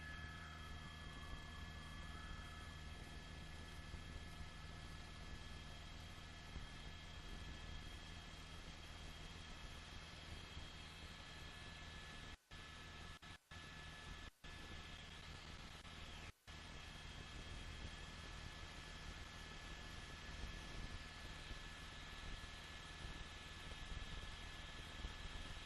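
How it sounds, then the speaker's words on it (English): CHP police helicopter overhead during a high-speed chase in Los Angeles, a constant broadband rotor and engine drone with steady tonal hum, faint and unchanging across the whole span with a few brief dropouts. "CHP chopper"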